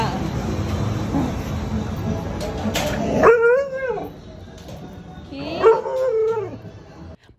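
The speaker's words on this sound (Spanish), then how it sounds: "miren la reacción de este perro tan hermoso" A large dog gives long, rising howls mixed with excited yips in greeting, two drawn-out howling bursts close by, following a stretch of noisy activity and voices.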